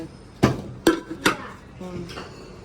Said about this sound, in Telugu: లోపల కుక్కర్లు కొడతాయి